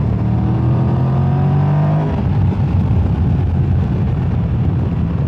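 A new motorcycle engine, only about 500 km into its break-in, revs hard toward its limiter: the engine note climbs steadily for about two seconds, then holds a loud, rough, sustained drone close to the microphone.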